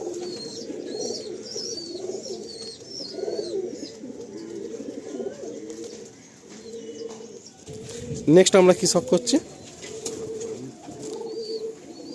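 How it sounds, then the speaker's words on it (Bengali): Andhra pigeons, a pair of male and female birds, coo softly and repeatedly throughout, with a brief louder burst of flapping or scuffling midway and people talking over them. "আচ্ছা এটাও আন্ধ্রা পায়রা।"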